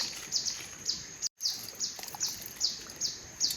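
Forest birds call in the night jungle during a camping trip, short high chirps repeating every half second or so, fairly faint over a quiet background, with a brief dropout in the middle.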